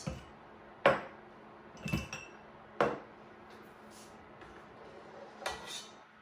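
A metal ladle knocks and clinks against sterilized glass canning jars as a mixture is scooped into them, giving several sharp, separate clinks spaced a second or so apart over a quiet kitchen background.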